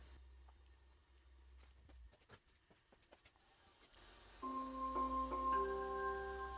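A EufyMake E1 UV printer sounds an alert of several steady electronic beep tones, preceded by soft clicks and handling taps, calling for its start button to be pressed.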